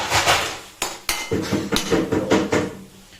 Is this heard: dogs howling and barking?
no